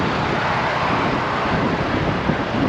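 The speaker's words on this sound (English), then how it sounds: "It's very windy." Strong outdoor wind buffeting the microphone, a steady loud rushing roar with no breaks for the whole stretch.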